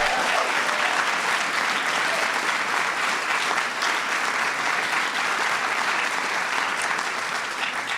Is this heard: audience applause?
yes